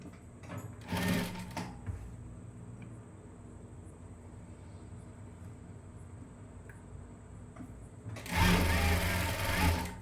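A sewing machine stitches a bias strip onto a garment neckline in two short bursts, one brief near the start and a longer one at the end, with a quiet hum and faint handling sounds between.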